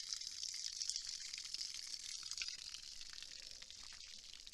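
Water from water jugs shot open by a 10mm pistol trickles and drips continuously, a faint, steady hissy splatter outdoors with no talking.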